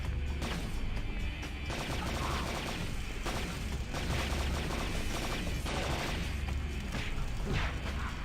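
Gunfire aimed at enemies in the Blade 2 video game, a dense run of sharp shots and bursts mixed with mechanical clanks and game noise throughout, loud and close with no talking.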